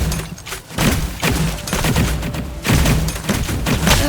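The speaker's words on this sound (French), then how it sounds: "là j'ai un lance-boule de neige, c'est le gros canon que j'ai dans les mains, puis dès que vous tirez, bah ça lance une boule de neige" A snowball launcher, a big cannon, fires in the video game Valorant, giving dense, loud, rapid bursts of thumping blasts with a brief lull between salvos.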